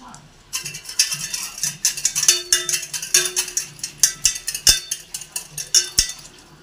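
Jal jeera powder, salt, sugar and curd beaten together in a bowl, giving a steady run of rhythmic clinks and scraping taps of a utensil against the container, close and fairly loud.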